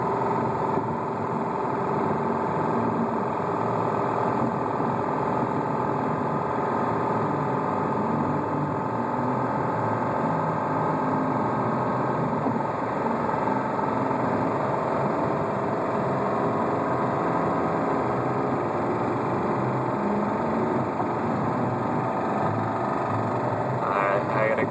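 A 2007 Subaru Outback engine with rod knock idles as a steady, continuous mechanical drone heard close up for the whole stretch, with no voices.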